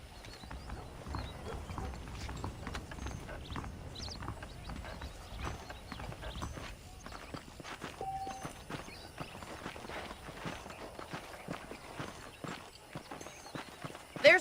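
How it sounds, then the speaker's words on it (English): Horse hooves clip-clopping in the western game Red Dead Redemption, a steady, close rhythmic trot of hoofbeats running throughout with little else over it. "The horses are saddled up over here."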